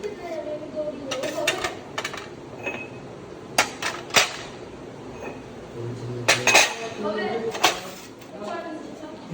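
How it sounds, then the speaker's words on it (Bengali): Cups left from yesterday's tea and other dishes clink and knock together as they are scrubbed, rinsed and stacked upside down, with scattered sharp ceramic taps and a voice faintly in the background. "কাপগুলো গতকালকে সব চাটা খেয়ে এখানে রেখে গেছিলাম মেজে ধুয়ে উপর করে এগুলো তুলে নিই পরিষ্কার করে দিই"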